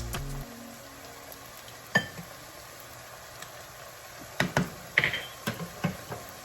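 Ground beef with onion, cumin, paprika, pepper and salt fries quietly in a pan, with a faint steady sizzle under scattered spatula taps and scrapes.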